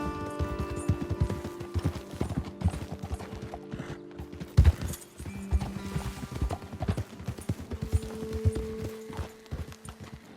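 Horses ridden in the Red Dead Redemption 2 video game clip-clop over the ground in an uneven, steady hoof rhythm with creaking tack, near and moderately loud, with a few heavier thuds as they slow.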